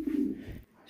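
Pigeons gathered together while feeding give a soft, low cooing call, fairly close and brief, with faint background noise around it.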